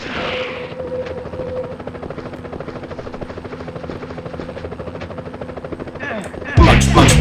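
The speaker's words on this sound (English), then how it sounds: "Police choppers!" Police helicopters in the PS1 Spider-Man video game, a steady whirring rotor drone running throughout with bursts of gunfire-like crackle, then a louder rush of sound near the end.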